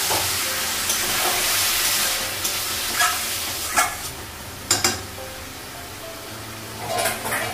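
Food fries in a pan in a Bengali home kitchen, a steady close sizzle with a few sharper spatters and stirring clatters, no one speaking.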